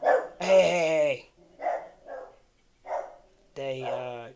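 A female house dog barks at night, startled by wild animals outside: a long, loud, howling bark, a few short yaps, then another drawn-out bark, close to the microphone.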